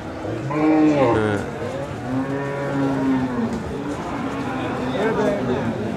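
Bull cattle at a cow market in Boda, Panchagarh let out long, deep moos, several drawn-out calls overlapping loudly and close against a busy market background.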